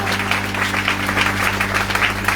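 A church congregation at Sunday worship claps in steady rhythmic unison, loud and close, a dense wash of hand claps filling the room with a faint murmur of voices behind.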